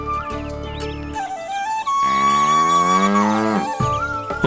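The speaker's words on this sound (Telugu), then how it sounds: "గోవులు కూడా మీ వెనుక ఇక్కడికే వచ్చేసాయి." Cows low loudly and close by in a pastoral setting, with one long drawn-out moo that rises and falls, followed by shorter lows, and no talking over it.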